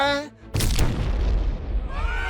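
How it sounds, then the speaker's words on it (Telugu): A bomb goes off in a shopping mall as a film sound effect, a sudden loud boom with a long noisy roar of debris after a brief voice at the start. "మాల్లో బాంబు పేలింది, అందరూ పారిపోండి."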